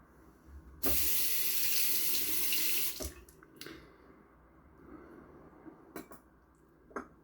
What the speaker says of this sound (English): I'll fill my bowl, filled with water